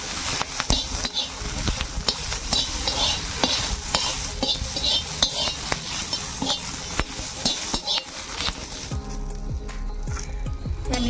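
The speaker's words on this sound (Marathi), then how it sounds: "त्याच्यावर थोडं तेल घालते आणि मिरच्या छान अशा भाजून घेते" Hot green chillies roast in a little oil in a pan, giving a continuous sizzle broken by repeated sharp scraping clicks as they are stirred, then a quieter stretch near the end.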